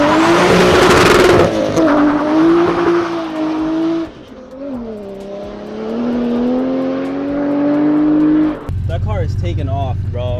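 A Toyota Supra and a Ferrari 488 Pista launch hard in a drag race, engines roaring and climbing in pitch through gears, with a brief tire squeal and another engine revving near the end.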